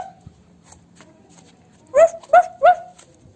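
A person imitates a dog with three quick, sharp barks in a row, voiced up close after a quiet moment.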